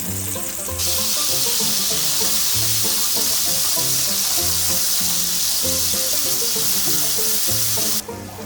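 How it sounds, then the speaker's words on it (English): Minced garlic stir-fries loudly in a pan for fried rice with egg and bacon, a steady close sizzle running throughout, with a music-like tonal bed beneath and no talking. "Add the minced garlic to the pan and stir fry until golden brown."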